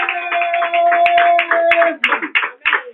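A church congregation claps to acclaim Jesus: a quick, steady run of close hand claps over sustained singing or chanting, turning into looser, uneven claps near the end.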